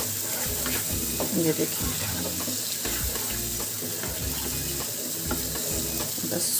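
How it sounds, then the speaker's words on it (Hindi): Spinach and masala frying and being stirred in a pan for palak paneer, with steady sizzling and scraping under a woman's brief speech. "अब मैं इसको इसमें डाल के भून रही हूँ।"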